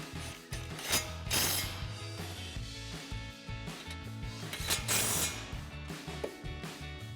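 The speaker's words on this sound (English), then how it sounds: "We'll use our 15 mil socket to get these tightened back down." A ratchet with a 15 mm socket tightens bolts during a coil-over suspension install on a 1994-2004 Mustang GT, producing a steady, close, rapid clicking in short repeated bursts.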